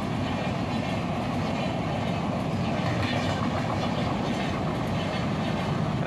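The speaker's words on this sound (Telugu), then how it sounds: "సౌతల్ పక్క ట్రాక్లో న్యూఢిల్లీ త్రివేంద్రం రాజధాని ఎక్స్ప్రెస్ మనని క్రాస్ చేసుకుంటూ వెళ్తుంది" The New Delhi–Trivandrum Rajdhani Express passes on the adjacent track, heard from aboard a train: a loud, continuous close roar of wheels and carriages with steady clickety-clack throughout.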